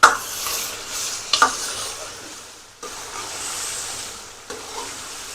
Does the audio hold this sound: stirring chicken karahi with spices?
yes